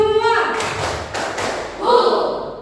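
Students in a junior high science class clap together in a short rhythmic spirit cheer: a quick run of three or so crisp group claps, with a voice speaking just before and just after.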